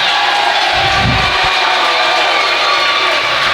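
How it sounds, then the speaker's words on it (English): Crowd cheering at a high school boys' basketball game between New Bremen and Russia, a loud, dense roar of voices from the stands that swells briefly and then holds as a steady wash of noise. "we're sitting on New Bremen's side for all that cheering that just went on"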